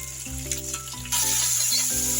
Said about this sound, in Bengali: এটা আমি ভালো করে কষিয়ে নিব।